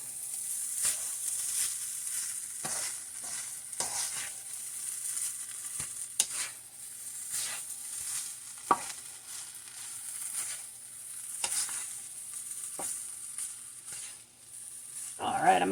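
Chicken fried rice being stir-fried on a stovetop: a steady sizzle with repeated scraping and stirring strokes of a utensil through rice in the pan, close and fairly quiet, no talking.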